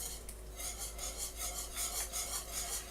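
A spoon or whisk stirs onion powder and garlic powder into a tomato jelly mixture, making a steady rhythmic scraping that rubs softly over and over against the pot, faint and up close.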